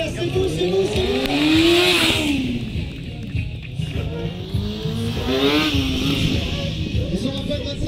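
Stunt motorcycles weighing about 200 kg roar and rev at a motor show, the engine pitch rising and falling in loud sweeps with crowd noise underneath.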